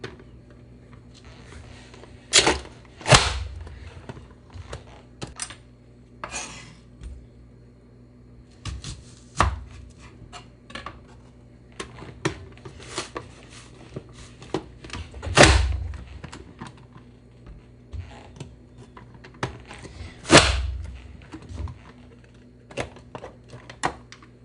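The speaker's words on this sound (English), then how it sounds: "just do a rough chop on my cutting board" A knife rough-chops tomatoes, red onion and basil on a cutting board in scattered sharp knocks, some single and some in quick pairs, separated by pauses and faint rustling, close and without talk.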